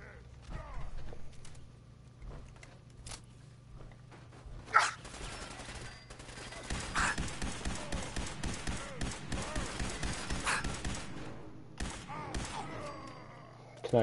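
Gunfire in Fallout 4: scattered single shots at first, then a steady run of rapid, rhythmic bursts in the middle, with a final sharp shot near the end, fairly quiet overall with some speech mixed in.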